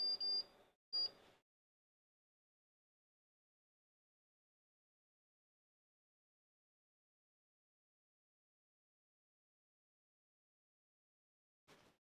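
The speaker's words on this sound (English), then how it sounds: "All right, we got beeps" A MiniITX Atlantis MiSTer computer board gives two short electronic beeps close together at the start, then near silence, with one more brief beep near the end.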